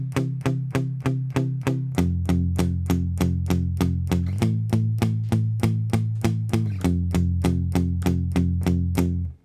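Electric guitar chugs through a song verse in palm-muted power chords, a steady rhythm of short, even strums that shifts chord shape several times and stays loud and close, with no voices.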